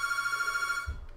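A telephone rings with a steady electronic trill that runs for most of the moment, then cuts off and leaves a brief low thump at the end.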